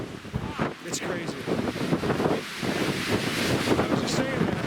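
Strong wind on a mountain buffeting the microphone in continuous roaring gusts, loud and close, with brief bits of voices under the rush.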